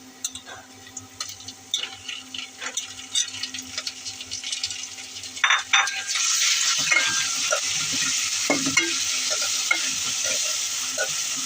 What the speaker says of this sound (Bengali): কাঁচামরিচ ভাজা হয়ে গেছে